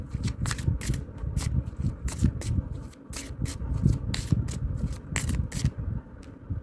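Tarot cards are handled and drawn from a deck in a quick run of crisp, papery snaps and riffles, close and dense with brief gaps.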